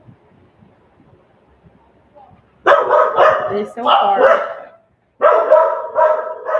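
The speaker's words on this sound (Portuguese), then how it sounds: "minha cachorra late, mas agora eu tô com outra cachorra aqui de visita, que é a cachorra da minha sobrinha" Two dogs, one a visiting dog, bark in a house with echoing rooms, in loud bursts after a quiet opening, with a voice speaking briefly.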